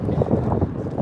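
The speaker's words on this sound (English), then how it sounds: "Oh, it's getting windy, guys." Outdoor wind buffets the microphone in a short, rough, low rumbling gust that lasts about a second.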